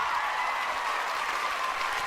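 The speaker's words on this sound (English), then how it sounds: "let's give him a round of applause for being a total dude" Steady round of applause from a small group, even and continuous throughout at moderate loudness, with no talk over it.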